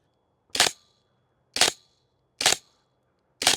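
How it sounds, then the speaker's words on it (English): Four sharp airsoft gun shots firing BBs, evenly spaced about a second apart, each a crisp loud pop with a short tail, close by and otherwise quiet between shots. "Just do a bit of shooting with this and see how we get on."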